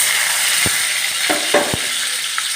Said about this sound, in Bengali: ফোড়নটা ভাজা হয়ে গেলে দিয়ে দেবো পেঁয়াজ কুচিটা